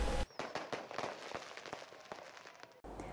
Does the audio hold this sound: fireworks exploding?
yes